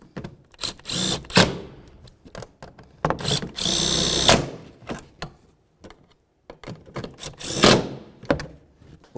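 A power tool whirs in short bursts, tightening the taillight mounting nuts on a Buick LeSabre, with a few louder sustained runs between bursts, plus clunks and handling noises; no talking.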